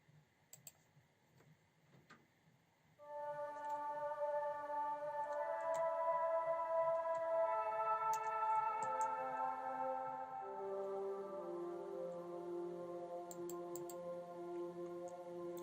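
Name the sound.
ambient synth with delay and reverb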